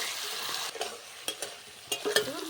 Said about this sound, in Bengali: এরপর ভালো করে ভেজে নেব আলুটা।